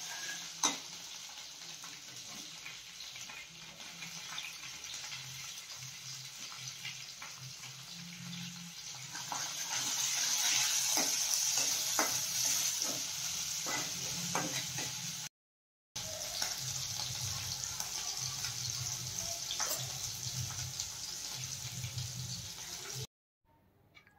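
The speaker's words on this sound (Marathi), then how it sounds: "कांदा जो आहे तो अगदी गुलाबी रंग येईपर्यंत परतून घ्यायचा आहे" Chopped onion sautés in hot tempering oil for a pulao of mixed legumes (moong, matki and peanuts), a steady close sizzle with occasional stirring that grows louder midway, stops briefly, then resumes.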